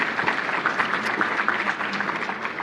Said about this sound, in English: So let's give them another applause.